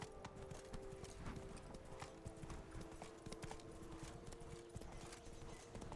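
Roach, a horse in The Witcher 3, gallops with steady, rapid clip-clop hoofbeats over continuous game ambience, close and fairly loud throughout, with a brief whinny-like sound mixed in.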